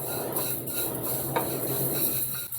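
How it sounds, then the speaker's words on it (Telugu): Mustard seeds and cumin dry-roasting in a pan, with soft clinks of a utensil against the metal over a steady low background, a few brief taps standing out. "ఇప్పుడు ఇందులో ఆవాలు, జీలకర్ర లైట్గా వేయించుకోవాలండి."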